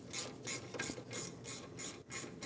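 A hand ratchet clicks in quick repeated strokes while snugging down the rear brake caliper bolts on a 2010-2015 BMW X1 xDrive, a close, crisp rhythmic rasp of the pawl with no talking.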